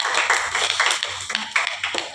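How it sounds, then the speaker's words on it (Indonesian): A classroom group claps for another group after a discussion presentation, a short burst of quick, bright hand claps from a few people nearby. "Kita berikan tepuk tangan untuk kelompok 2."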